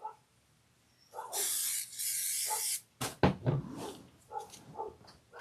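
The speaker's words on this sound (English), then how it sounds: "I'm going to go ahead and spray this and put it down" A spray can is aimed at quilting fabric during a Kimberbell sewalong, giving one long, close, steady hiss that stops abruptly, followed by soft handling clatter and rustling.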